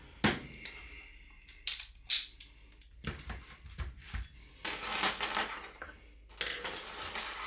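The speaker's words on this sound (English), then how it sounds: "So many Allen keys and everything else just accumulates." Small metal Allen keys and tools clatter and jingle as they are tossed into a box in a truck, coming in irregular bursts of clinks and rattles at close range.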